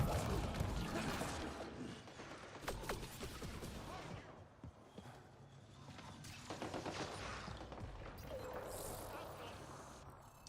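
Gunfire crackles through a firefight in Mass Effect Andromeda, with bursts of rapid shots and sharp impacts alongside mechanical clanks, loud at first and then more scattered.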